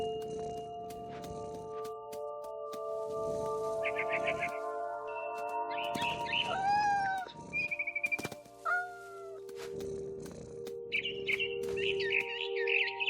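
Cat meows and bird chirps from the video game What Remains of Edith Finch, several short chirping and mewing calls in the middle over a steady musical background, fairly close and clear.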